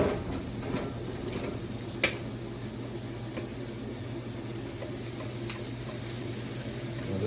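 Tofu added to a pan of peppers and onions sizzles with a steady, moderate frying hiss, with a few faint utensil clicks and no talking.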